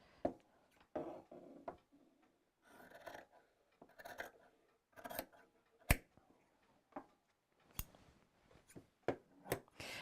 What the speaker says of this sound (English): Sometimes I usually just use my scissors.